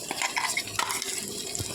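Ground sorrel leaf paste is stirred in a pan while cooking pulicha keerai kadaichal, giving short wet scraping and clinking strokes from a spoon, close and moderately loud with no talk.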